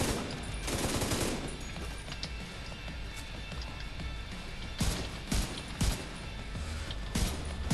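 Automatic fire from a machine gun turret in the video game The Division 2, rapid bursts at moderate loudness with brief louder spikes over a steady background din.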